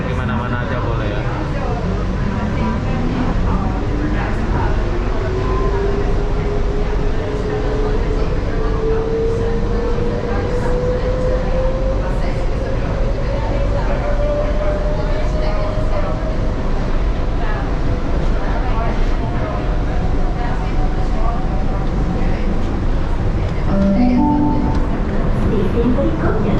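A Malaysian monorail carries passengers from Chow Kit station toward KL Sentral, its steady rolling rumble and a rising electric motor whine carrying throughout, with a soft chime near the end.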